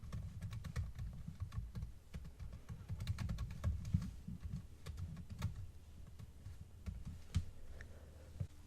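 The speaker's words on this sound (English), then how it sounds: "Now we're going to type int equals input." Continuous keystrokes on a computer keyboard while writing code, a steady stream of light clicks over a low background hum, close and moderately quiet, with no speech.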